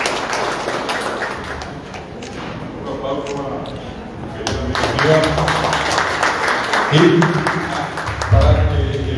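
An audience applauds at a Guaraní language and culture athenaeum ceremony, a broad wash of clapping that swells midway and continues under someone speaking into a microphone.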